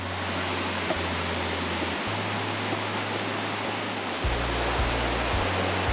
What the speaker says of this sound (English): I can hear the waterfalls now